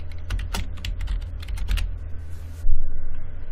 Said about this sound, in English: Just type a name in.